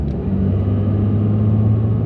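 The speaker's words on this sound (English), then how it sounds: "what you hear is the fake V8 sounds that are piped through the speakers" A synthetic V8 engine note plays through the cabin speakers of a 2025 BMW electric car, a steady, loud, low rumbling hum with no talk over it.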